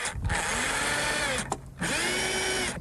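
A power screw gun drives screws into a roof, whining in two sustained bursts with a short pause between, close and loud, with the motor pitch shifting as each screw seats.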